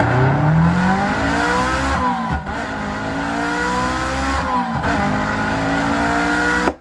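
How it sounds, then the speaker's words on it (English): Lamborghini-style engine sound effect triggered from a Roland SPD-SX sampling pad, a loud continuous rev with rising engine pitch and a brief dip near the middle, running alone until it cuts off at the end. "I think it was a Lamborghini or something close to that online with a sound like that."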